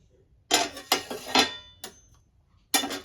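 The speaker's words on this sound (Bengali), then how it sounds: "এবার আমি আস্তে করে ঢাকনাটা তুলে দেখে নেব।" A metal lid comes off a cake-baking pot on a gas stove, giving several sharp clanks and clatters spread over a few seconds, close and fairly loud in a quiet kitchen.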